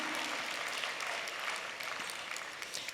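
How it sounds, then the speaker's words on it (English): Audience clapping at a live talk, a dense, steady spread of many hands applauding throughout, moderately quiet and heard from within the room. "Steve deserves a clap."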